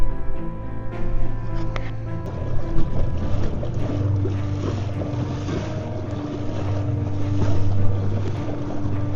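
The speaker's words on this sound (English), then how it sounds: "Holy crap, that's a big wave." Wind-driven waves slap and rush against a small fishing kayak on rough water under a small craft advisory, with steady wind noise buffeting the microphone and splashing throughout.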